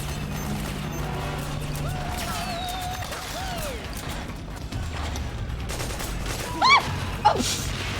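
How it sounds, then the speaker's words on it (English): Covering gunfire in Metal Gear Solid 4, with scattered shots, mechanical clanks and a couple of sharp loud bursts near the end over a low game background. "I'm providing covering fire!"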